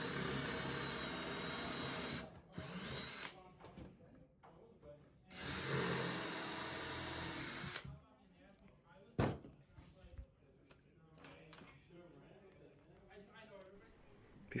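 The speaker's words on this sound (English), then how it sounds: "we pre-drill our holes using the countersink bit." A power drill with a countersink bit pre-drills holes in lumber for a roof truss, whirring in two sustained close runs, broken by tool handling, thuds and clicks, with a person talking in between.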